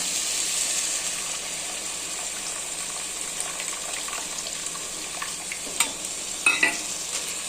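Steady frying sizzle of tomato masala for brinjal thokku fills the air, with a few soft scrapes and clinks of stirring in a pan near the end, no voices.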